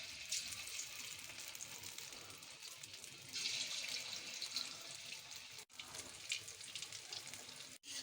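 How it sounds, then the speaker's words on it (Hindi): Moong lentil dumplings fry in hot oil with a soft, continuous sizzling hiss that swells slightly midway, fairly quiet, with no talk. "ये देखिए मेरी सारी फुल्कियाँ तल रही हैं"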